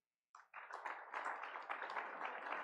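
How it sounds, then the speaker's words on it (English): Polite audience applause at a conference afternoon session, starting after a brief pause and building into steady, moderate clapping from a small group. "So what I would like is just some nice polite applause,"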